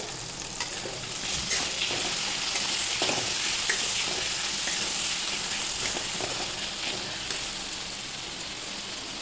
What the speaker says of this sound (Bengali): এই যে টমেটো, পেঁয়াজ, আদা, রসুন সব ভালো করে ভাজা হয়ে গিয়েছে